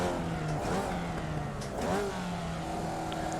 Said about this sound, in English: Oh, let that little engine rev.